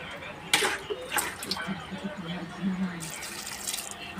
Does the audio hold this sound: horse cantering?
no